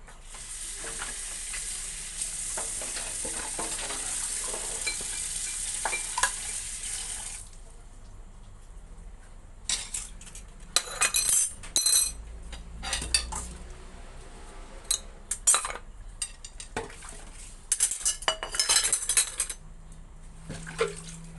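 Dishes and utensils are washed at a sink: running tap water flows steadily at first, then cutlery and plates clink and clatter in irregular bursts between quieter pauses, close by.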